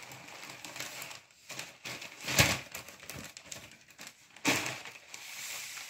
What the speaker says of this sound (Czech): Teď už to stačí jen zabalit.